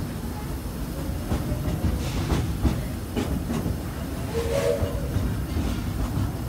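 A Disney theme park train rolls steadily along its rails with a continuous low rumble and soft clicking, a steady background with faint hiss and no talk.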